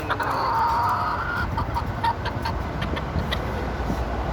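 A standard-size bantam rooster clucks and calls in a few short bursts over steady background noise, with faint ticking and distant rumble; no talking.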